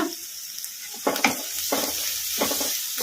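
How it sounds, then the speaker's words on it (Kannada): Vegetables stir-fried on high flame for egg fried rice sizzle steadily in a pan, with intermittent scraping stirs at a moderate, close distance and no talking. "ಫ್ರೈ ಮಾಡ್ಕೊಂಬಿಡೋಣ ಹೈ ಫ್ಲೇಮಲ್ಲಿ"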